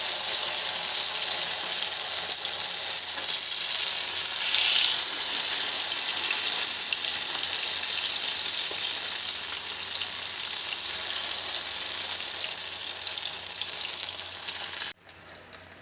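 Marinated brinjal slices sizzle and fry steadily in hot oil in a pan, a dense continuous crackle holding close and loud throughout with a brief stir midway, no talking.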